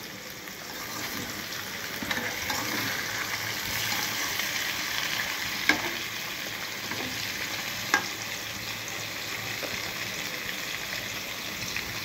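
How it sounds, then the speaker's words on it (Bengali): Boiled potatoes and eggs fry in a pan with a continuous, even sizzle, broken by occasional soft stirring scrapes and two sharp clinks of utensil against metal. "এখন আমি আলু আর ডিমগুলো ভেজে নেব"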